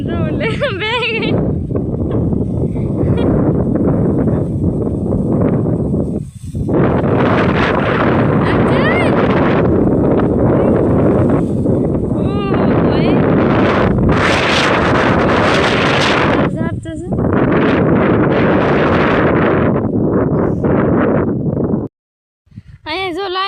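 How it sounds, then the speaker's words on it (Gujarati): Strong wind gusting across an open okra field during pesticide spraying, loud buffeting roar on the microphone almost throughout, with bleating animals and voices mixed in. "પવન તો જો કેટલો ઉડે ને"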